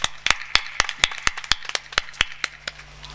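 Sharp rhythmic hand claps from an audience applauding Kadamangalam Murugan, a steady train of about a dozen crisp, evenly spaced claps, close and fairly loud.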